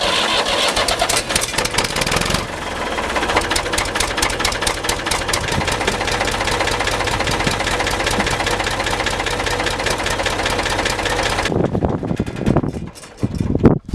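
Case 1190 tractor diesel engine cranks and fires, then settles into a loud, steady idle with a rhythmic knock, running continuously up close before abruptly dropping off near the end.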